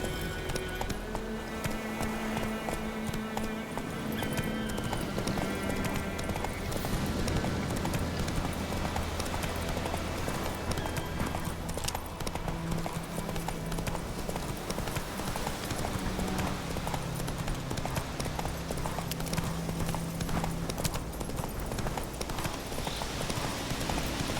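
A horse gallops in The Witcher 3: Wild Hunt, its hoofbeats a fast, continuous clip-clop that stays loud and steady for about 24 seconds over the game's background sound, with no clear speech.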